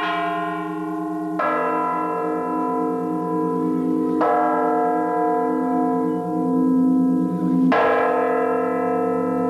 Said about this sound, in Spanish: engarza los badajos de las campanas para un mini concierto